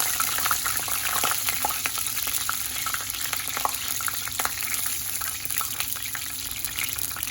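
Garlic tempering sizzles in hot oil for a koi fish and potato curry, a loud, steady frying hiss with crackling pops that continues throughout.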